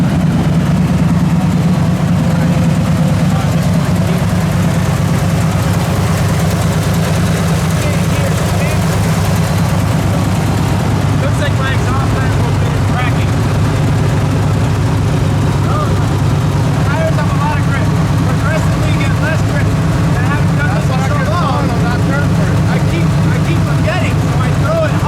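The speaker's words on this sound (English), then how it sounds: "V8 loudness over here?" A BMW drift car with a V8 engine runs loudly at a drift event, a heavy, steady low rumble close by with a ticking edge, while people talk over it throughout.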